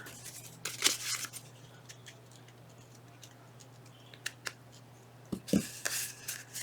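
Scissors trimming paper for a craft project give a few brief close snips and rustles, scattered across otherwise quiet moments with a faint steady hum underneath.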